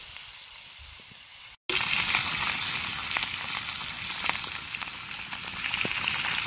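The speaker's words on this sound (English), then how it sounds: "Just getting the bacon crispy before we throw the trout on." Bacon crisping in a cold-handle pan outdoors on a canoe fishing trip, a dense, loud, steady sizzle with crackling pops that starts abruptly after a brief lull and runs on alone.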